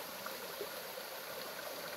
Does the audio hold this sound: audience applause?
no